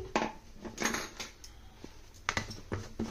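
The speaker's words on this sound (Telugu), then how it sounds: "మరలా స్టవ్ మీద పెనం పెట్టుకొని" A metal pan is set down on a stove during preparation of a curry leaf powder, giving several close clanks and scrapes of metal against the burner grate.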